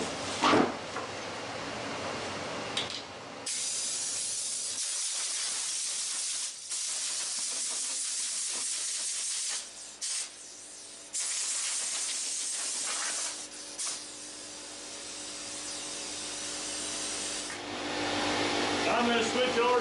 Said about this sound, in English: I'm going to switch over to 120 grit. And I'll sand it with 120.